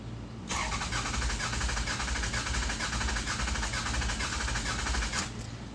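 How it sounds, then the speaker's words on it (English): Toyota Sienna engine cranks over with its fuel injectors disabled, a loud, even, rapid rhythmic churning from the starter that carries on for about five seconds without firing, then cuts off. "So let's crank it over and listen to the engine."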